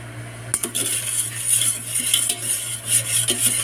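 A utensil stirs a dessert mixture in a pot, scraping and clinking steadily at close range over a faint bubbling simmer, with no talking.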